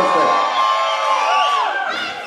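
A live crowd at a chill show cheering and whooping, with many overlapping voices shouting loudly and continuously over a couple of seconds.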